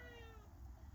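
A cat gives a single short, clear meow close by, its tone gliding downward, in a quiet room with no speech over it.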